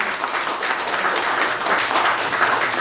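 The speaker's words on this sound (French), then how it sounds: "On peut vous applaudir très fort." An audience at a Brussels gastronomy award ceremony claps steadily and densely, a continuous wash of applause throughout with no voices standing out.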